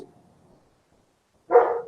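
A dog lets out a single short bark indoors, loud and close, after a near-silent stretch.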